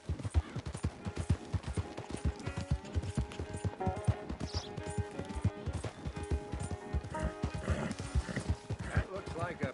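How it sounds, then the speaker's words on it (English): Horse hooves clip-clop in a steady rhythm with whinnies and neighs, in the video game Red Dead Redemption 2; loud and close, running throughout under talking voices. "That looks like a pretty nice horse you got there."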